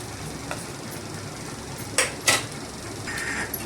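A spoon stirs amla rice with salt in a pan: a quiet, sparse scrape with two brief metallic clinks close together, then a faint rub against the pan.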